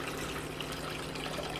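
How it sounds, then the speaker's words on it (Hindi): Water poured into a cooking pot (bhagona) in a home kitchen, a steady quiet trickling and splashing stream running continuously without speech. "चलिए एक भगोने में हम ये पानी डाल देंगे"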